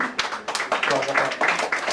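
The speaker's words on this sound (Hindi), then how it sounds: "तालियां रुकनी नहीं चाहिए" Rhythmic, steady clapping from an audience in a prayer hall, beating at a quick even pace beneath a voice speaking over it.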